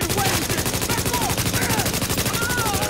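Loud, sustained automatic blind-fire gunfire in The Division video game, a dense rapid rattle of rounds filling the whole moment without pause.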